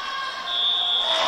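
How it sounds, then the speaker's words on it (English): A fire alarm sounds in a gym during an all-native intermediate basketball game, a continuous shrill electronic tone that grows stronger midway, layered over a faint crowd murmur. "We got the fire alarm going off."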